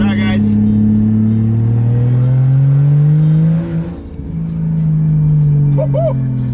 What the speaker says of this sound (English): We've got no blow-off valve in this, so it's going to make extra when it actually spools up.